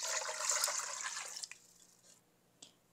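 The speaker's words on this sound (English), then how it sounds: "Now fill the pot up with some water." A cooking pot is filled with water for steaming, giving a steady close rush of running water that tapers off into a few faint drips and clinks.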